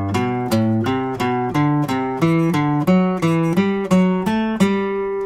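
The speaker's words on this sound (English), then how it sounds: "playing a scale in thirds" A plucked guitar steps through a scale in thirds, about a dozen evenly spaced notes, each ringing clearly on its own.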